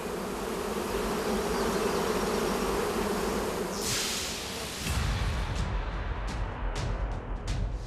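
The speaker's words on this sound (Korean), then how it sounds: "산속에 가득 울려 퍼지는 꿀벌들의 날갯짓" Honeybees buzz in a dense, continuous drone around the hives of a mountain apiary in Cheongju, North Chungcheong, Korea, with a few louder swishes of bees passing close.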